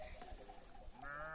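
Sheep bleat on a shepherd's pasture in the early morning, several drawn-out calls layered over a steady, noisy outdoor background at low overall level.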